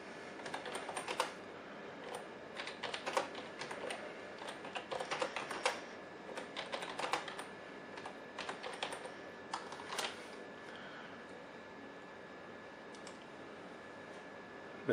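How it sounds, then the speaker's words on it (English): Quick bursts of keystrokes clatter on a computer keyboard, coming in irregular runs with short pauses, fairly soft and close, with no voices. "we're going to type this on the keyboard on a PC"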